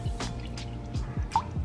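Distilled water poured into a container for a homemade all-purpose cleaner, heard as a short run of close, evenly spaced drips and gurgles with one bright plink near the end.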